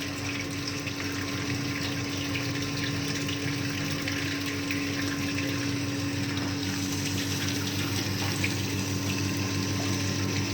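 Steady rushing water flows from an open valve into the inlet tank of a Bernoulli's theorem apparatus, continuous under a constant mechanical hum, with no pauses.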